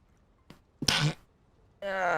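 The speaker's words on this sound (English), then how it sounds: "sneeze, apparently." A person sneezes close to the microphone: a short intake, then one sharp loud burst, followed after a pause by the start of a voice.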